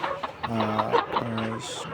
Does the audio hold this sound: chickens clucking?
yes